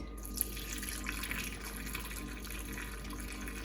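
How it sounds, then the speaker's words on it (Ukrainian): Sweet syrup made without prunes is poured over raw pork ribs in a kitchen, a faint steady liquid trickle and splash with a low background hum. "виливаємо до м'яса наш солодкий сироп без чорнослива"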